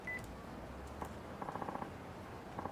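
Short electronic dialing tones from a phone in Yakuza 5, a quick series of evenly spaced beeps in two bursts over a low, steady game background.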